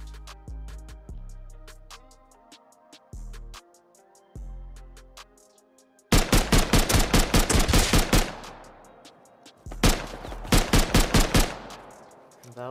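AK assault rifle fire in Rust rings out close and loud, first as scattered single shots and short bursts, then as long rapid automatic strings with sharp, cracking reports and brief pauses between volleys.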